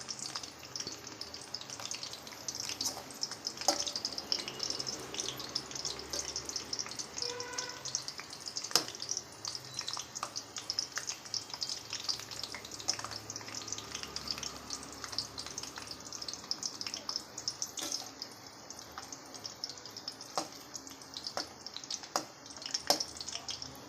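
Bitter gourd curry fries in a pan with a soft, steady sizzle broken by small scattered pops and crackles, fairly quiet and close throughout, with no voices.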